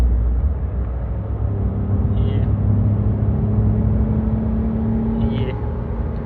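A car with an AMT gearbox accelerates to overtake, its engine a steady loud rumble under road and cabin noise throughout.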